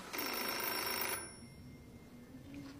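A telephone rings loudly in a home scene for about a second, then cuts off abruptly, leaving quiet room tone.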